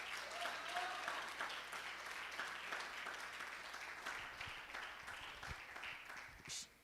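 Congregation at an evangelical prayer service applauding, a dense, sustained round of clapping that holds steady for several seconds before tapering off near the end.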